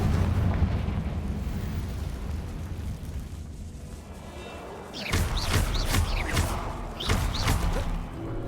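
Confringo blasting spells explode in Hogwarts Legacy, setting off a quick run of sharp, loud bursts with crackling debris. The blasts follow a stretch of low ambient rumble.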